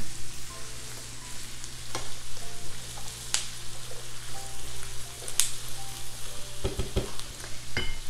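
Squash and garlic cloves sizzle steadily in a pan as a spoon stirs them, with scattered scraping clicks and a couple of sharper utensil knocks near the end, close and moderately loud.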